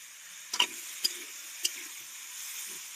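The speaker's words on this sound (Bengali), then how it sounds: "আলুগুলো আমি লবণ আর হলুদ দিয়ে ভেজে নেব।" Potatoes frying in oil with salt and turmeric give a soft, steady sizzle, with a few sharp ticks and clinks standing out briefly. The sound is fairly quiet and close, and no one speaks.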